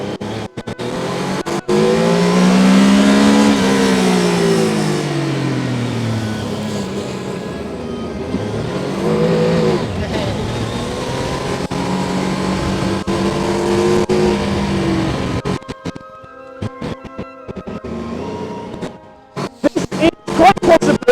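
A Formula Student race car drives and accelerates, its engine note rising and falling through several revs, loud and close, then dropping away into quieter, choppy engine sound near the end.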